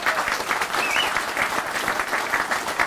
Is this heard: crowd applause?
yes